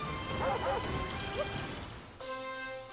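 A dog barks and yips in the video game Super Mario Odyssey, a few short sharp barks early on, followed by game sound effects and a bright chime, moderately loud.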